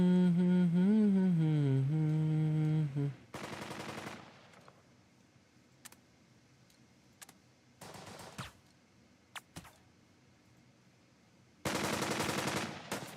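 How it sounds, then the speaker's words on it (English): Gunfire in the war strategy game Burden of Command: bursts of rapid machine-gun fire and single shots, loud clusters at the start and end with sparser isolated shots between, after a brief musical tone at the opening. "Yeah, they just keep shooting at those guys."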